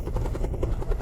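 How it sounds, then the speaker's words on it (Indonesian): A helicopter arriving for a rescue thuds with fast, rhythmic rotor beats over a heavy, steady engine roar, loud and close throughout. "Mereka kirim helikopter buat jemput kita."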